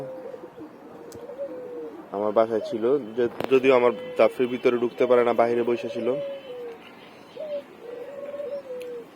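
A visiting pigeon perched at a home loft gives soft, steady coos at the start and end, while someone talks loudly in the middle.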